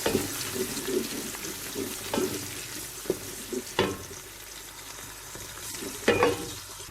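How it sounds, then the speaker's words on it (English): Chopped onion frying in hot oil for Nigerian fried rice, a steady close sizzle broken by irregular scrapes and clacks of stirring. "now that the oil is hot, I'm going to add my chopped onion. I'm going to fry this."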